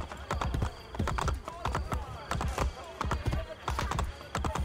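Armored horse hooves clip-clop at a brisk, steady gallop in Assassin's Creed: Brotherhood, close and continuous, with a whinny and someone talking over the hoofbeats.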